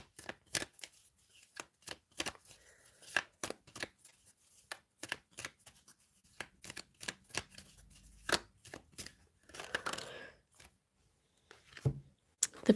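Tarot cards shuffled and drawn by hand: a long run of quick, crisp riffling snaps and soft slaps, close and fairly quiet, with a few pauses and a brief flurry of rustling near the end.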